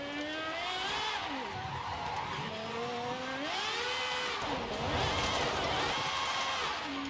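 Tyres spinning and an engine revving hard in a racing video game, a loud continuous high whine rising and falling through gear changes, with screeching wheelspin throughout.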